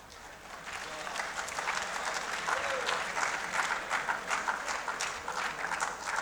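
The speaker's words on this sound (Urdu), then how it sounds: "یہ تالیاں آپ نے اس لیے بجائیں کہ پاکستان ڈوب رہا ہے" At a development economics conference on debt relief, the audience breaks into loud, steady applause that swells and holds for several seconds, with faint crowd murmur beneath.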